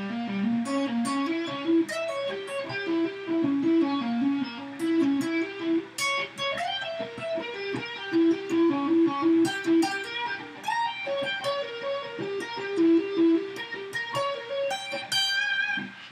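Electric guitar with distortion plays a fast chicken-picked diminished shred phrase for a metal solo, with dense, rapid staccato notes running continuously at steady loudness. No one speaks.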